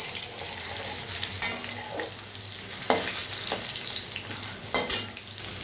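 Pieces of snakehead fish frying in plenty of hot oil for a Bengali oil-chilli curry, a steady close sizzle with occasional sharper crackles and stirring clinks.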